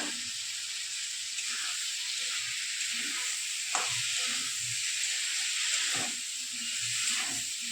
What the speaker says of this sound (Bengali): এখন ভাজা আলুটা দিয়ে দিচ্ছি, আর এর সঙ্গে তরমুজের খোসাটাকেও দিয়ে দিচ্ছি।